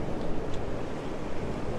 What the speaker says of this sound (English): That wind is, it's definitely gone more westerly now too